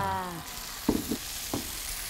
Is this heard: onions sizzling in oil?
yes